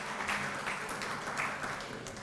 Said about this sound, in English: Let's give those in our CIU a round of applause.